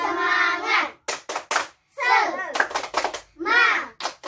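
Children in a classroom perform the tepuk semangat spirit clap, rhythmic bursts of group clapping alternating with chanted call-and-response voices.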